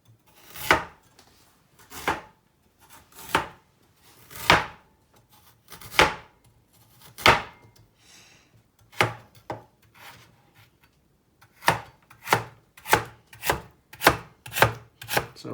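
A good Asian-style knife chops and minces ginger on a board, giving a steady run of sharp, close taps in short bursts with brief pauses between them.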